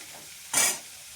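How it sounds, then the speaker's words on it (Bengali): Whole shrimp coated in salt and turmeric hit hot oil in a wok, giving one short, sharp burst of sizzling that fades within a fraction of a second. "এই চিংড়ি মাছগুলো একটু ভেজে নেব"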